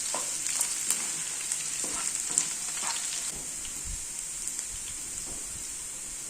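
A ripe mango pickle mixture sautés in a pan, a continuous bright sizzle with scattered clicks and scrapes of stirring, close and steady, with no talk.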